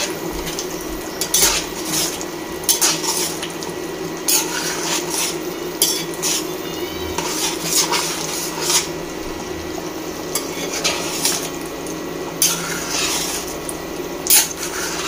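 Mutton being stirred and sautéed with garam masala in a pot, with steady scraping and clinking of a utensil against the metal over a low frying sizzle, close and continuous, with no talk.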